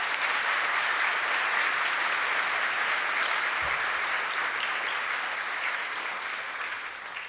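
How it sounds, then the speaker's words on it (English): Sustained applause from a large audience, steady and loud for several seconds before tapering slightly at the end. "Please join me in giving them and their exceptional teachers a huge round of applause."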